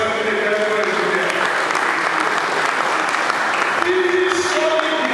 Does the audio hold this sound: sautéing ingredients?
no